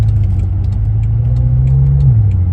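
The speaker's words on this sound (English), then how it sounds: "the exhaust sounds a little bit better already" A 560 hp 2014 BMW M5's engine and exhaust drone steadily in Sport Plus mode, pitch rising as it accelerates, with a slight shift near the end; loud and close, no talking.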